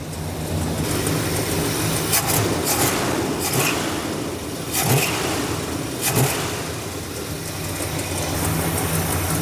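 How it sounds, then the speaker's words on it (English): A Dodge Monaco engine idles steadily after its first start in years, a continuous loud rumble with broadband hiss and a few brief louder bursts, with no talk over it. "It's idling really nice right there, though."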